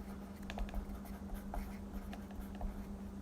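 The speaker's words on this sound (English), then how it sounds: "I'm gonna write that down, just in case." Pen scratching on paper as something is written down by hand, soft irregular strokes in a quiet room over a steady low hum.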